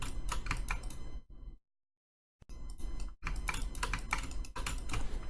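Rapid clicking on a computer keyboard while drafting a plan, section and elevation drawing in CAD, with dense keystrokes broken by a silent pause of about a second before the typing resumes.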